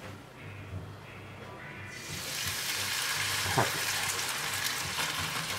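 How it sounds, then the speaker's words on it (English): Bacon hits a hot pan and breaks into a loud, steady sizzle that fills the rest of the moment, after one brief spoken word. "You want to hear that sizzle."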